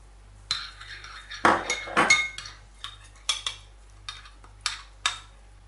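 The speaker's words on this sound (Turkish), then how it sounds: "Hamurumuza çatalla delikler açalım." A metal fork pokes holes in pizza dough in a pan, giving a series of scattered, close clinks and scrapes of metal against the pan, irregular and fairly quiet, with no talking.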